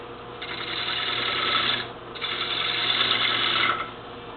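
A lathe tool makes a bevel rubbing cut on a spinning wooden bowl, giving a steady, close scraping hiss in two long passes separated by a brief dip.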